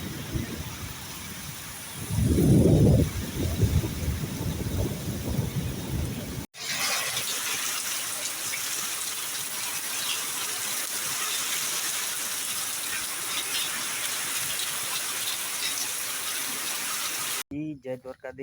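Steady rain hisses continuously, with a brief voice near the start and an abrupt shift to a louder, denser downpour partway through.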